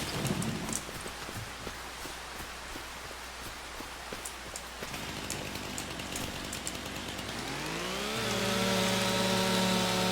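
Rain in the video game Farming Simulator 25, a steady hiss of falling drops on a rural farm, joined near the end by a rising, droning engine hum.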